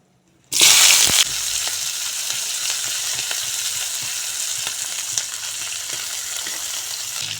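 Chopped onions and dried red chilli hit hot oil in a wok for ghugni, a street-style chickpea curry, with a sudden loud sizzling burst that settles into steady, close crackling frying with no voices.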